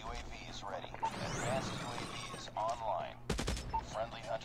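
Crossbar gun in Call of Duty Mobile firing, with a few sharp shots and a heavy burst of game gunfire amid other in-game effects, while a player talks over it throughout.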